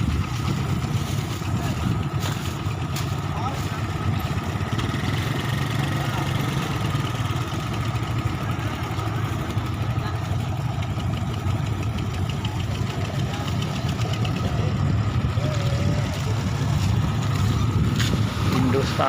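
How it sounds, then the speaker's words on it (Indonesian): A ferry's engine drones steadily as it draws up to a busy harbor dock, a constant mid-pitched rumble with faint knocking that runs unbroken throughout, moderately close and without talk. "Ini kapalnya yang menuju Sikile ya, sudah datang"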